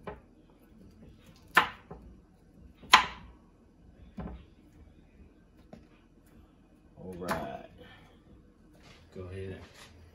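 A knife chops vegetables on a board for a vegan spaghetti dinner, giving a handful of sharp, separate cuts spaced a second or more apart, with kitchen clatter and quiet talk in between.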